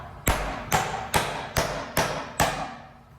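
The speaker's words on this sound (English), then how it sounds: "I'm going to put me a nail here first" Six evenly spaced hammer blows driving a nail into a wooden joist, each a sharp close thud with a short ringing tail, steady rhythm about two per second.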